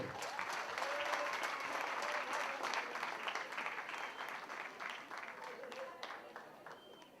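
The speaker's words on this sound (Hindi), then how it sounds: "सबसे ज़्यादा तालियां होनी चाहिए हमारे बच्चों के लिए." Audience applause for children fighting cancer at a celebrity charity event, a dense round of clapping that swells early and slowly fades, with voices and cheers mixed in.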